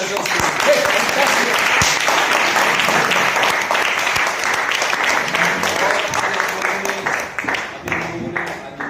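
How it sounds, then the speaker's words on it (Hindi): Loud, sustained applause from a seminar audience in Nagpur fills the room, dense clapping that dips slightly toward the end, with voices mixed into the crowd noise. "एक जोरदार तालियां हो रही है टीम"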